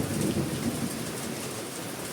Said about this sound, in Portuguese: Olha essa chuva.